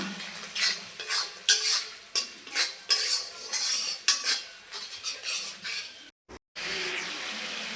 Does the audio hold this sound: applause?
no